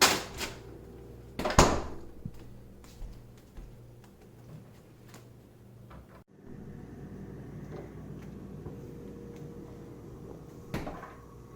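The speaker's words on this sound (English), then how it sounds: "the first step is just, putting it in the freezer." A freezer door is opened and then shut in a home kitchen, with a couple of thumps and clatters, a sudden drop to near quiet, and then a steady appliance hum until a final soft knock.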